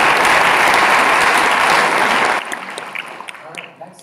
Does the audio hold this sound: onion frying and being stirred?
no